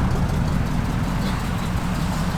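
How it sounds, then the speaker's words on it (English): A 1979 Chevrolet K10 pickup fitted with dual exhaust runs steadily, giving a continuous low, throaty rumble that holds even loudness throughout with no voices over it. "They put a dual exhaust system on it."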